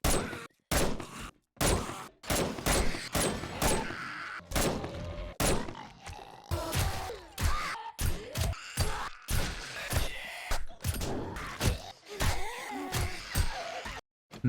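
Suppressed rifle fire in the video game 7 Days To Die comes as a rapid series of sharp, close thuds and cracks. The shots are spaced irregularly, with short gaps between bursts.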